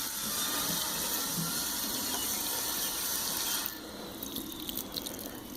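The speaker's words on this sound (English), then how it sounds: "I'll water again with that watering can" Water poured from a watering can onto soil mix gives a steady, close stream of splashing that stops partway through, leaving a few faint drips and small rustles.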